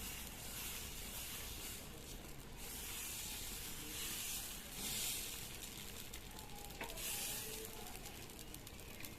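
Dosa batter on a hot pan, cooked with no oil, gives a continuous soft hiss and sizzle that swells gently in places and runs steadily throughout.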